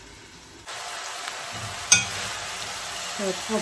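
Korean-style garlic chives with meat sizzle steadily in a hot pan while being stirred, with a sharp clink of utensil on metal partway through; someone speaks briefly over the frying.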